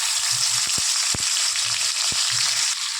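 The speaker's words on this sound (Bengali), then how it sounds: "এবারে ব্যাটারটা আমি এই তেলের মধ্যে দিয়ে নিচ্ছি" Spiced batter hitting hot oil in a kadai, giving a steady, loud, close sizzle with a few soft stirring knocks underneath.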